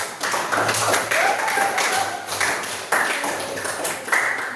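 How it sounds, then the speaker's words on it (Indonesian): Students in a classroom clap for a group returning to their seats, several bursts of brisk rhythmic clapping filling the room at close range. "Tepuk tangan."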